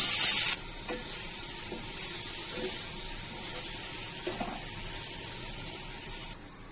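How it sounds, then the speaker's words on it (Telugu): Marinated paneer fries in a kadai with a steady, close hiss of hot oil, a brief louder burst at the start, then a continuous sizzle with faint clinks from the pan. "ముందుగా మనం మ్యారినేట్ చేసుకున్నాం కదండి పన్నీరు దీనిలో వేసి వేయించుకుందాం"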